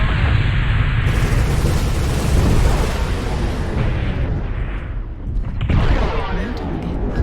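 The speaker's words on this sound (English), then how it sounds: "incoming missile." Missile explosions in the MechWarrior Online battle game, a heavy continuous low rumble with crackling blasts and a sharper burst near the end, loud and close, with voices talking over it.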